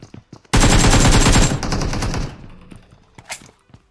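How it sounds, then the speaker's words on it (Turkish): A loud, close, sustained burst of rapid fully automatic Uzi fire in a video game lasts about a second, then tails off into quieter scattered clicks and thuds. "Uzi'nin Uzi'nin hızlı çekimini buldum."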